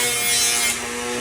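A homemade knife sharpener built from a blender motor with two glued DVDs carrying sandpaper runs with a steady high-pitched electric whine and hum, loud and close, easing off a little partway through.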